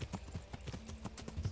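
A horse galloping in the game Kingdom Come: Deliverance: a steady, fast run of close hoofbeats, clear and evenly paced, with no talk.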